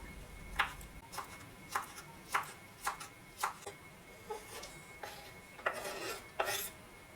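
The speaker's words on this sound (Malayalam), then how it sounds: "കായത്തൊലി ഇതുപോലെ ഒന്ന് കട്ട് ചെയ്തെടുത്തിട്ട് ചെറുതായിട്ടൊന്ന് അരിഞ്ഞെടുക്കാം" A knife finely chopping banana peel on a board, producing about a dozen crisp, short cutting strikes in an uneven rhythm, close and clear against a quiet background.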